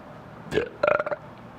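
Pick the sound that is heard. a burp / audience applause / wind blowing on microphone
a burp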